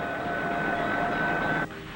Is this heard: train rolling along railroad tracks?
yes